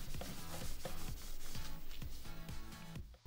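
Clear wax rubbed by hand onto a chalk-painted wooden chair, heard as a steady run of rhythmic rubbing strokes, close and even, with no talking.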